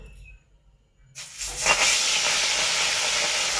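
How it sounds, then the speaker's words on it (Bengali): Fish dropped into hot oil in a wok for a Bengali fish curry: after a quiet moment, a loud, steady sizzling hiss erupts and carries on evenly, close to the pan. "মাছ ছাড়া হয়ে গেছে এবার ভালো করে এটা ভাজতে দেওয়া হলো"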